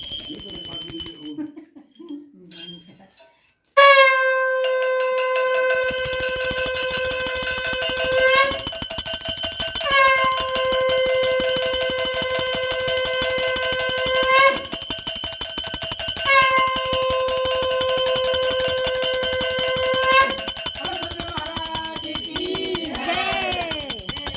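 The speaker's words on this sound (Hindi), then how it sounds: "घंटा बजाओ" A bell rings during a Satyanarayan puja at home, a steady run of bright metallic rings repeated over many seconds, loud and close, following a brief stretch of quieter sound at the start.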